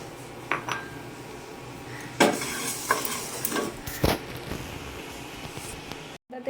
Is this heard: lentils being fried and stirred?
yes